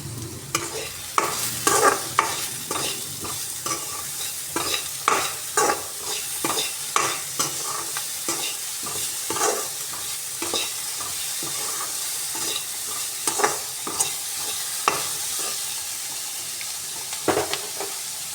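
Steady sizzling and stirring in a hot pan while tempering for curd rice, with repeated spoon scrapes in an irregular rhythm throughout and no talking.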